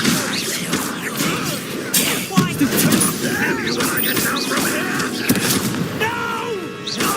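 Confringo blasting spells in Hogwarts Legacy set off a rapid string of loud, close explosive booms and crackling bursts amid combat clatter, with people talking underneath.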